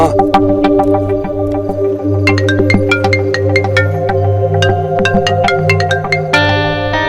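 A loud, melodic phone ringtone plays close by, repeating bright electronic notes over a steady humming tone, with no one speaking.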